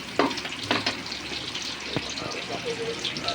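Onion and garlic sizzle in a hot pan while puchero is being cooked, with crackling frying and a few sharp clinks from stirring close by. Voices talk softly over the cooking.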